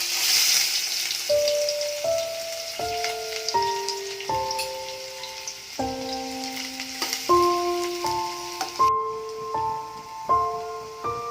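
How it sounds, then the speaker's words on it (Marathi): Chopped onion sizzles in well-heated oil in a pan for a Malvani pomfret curry, a steady broadband hiss that eases near the end, largely overlaid by a plucked, stepping instrumental melody. "तेल तापल्यानंतर त्यामध्ये कांदा ओतावा"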